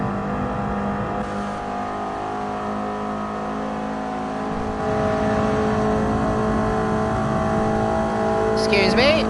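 Race car engine in Gran Turismo Sport, a steady loud droning whine that builds slightly in intensity and ends with a sharper rising burst, continuous throughout.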